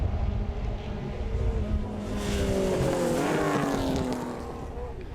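Racing cars, including a Datsun 1600 and a Ford Galaxy, drone past on a circuit at a sporting car club meeting, engine notes swelling and fading at moderate distance with wind buffeting the microphone.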